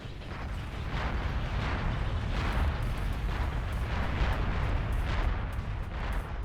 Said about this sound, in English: there's a mass bombing wave coming in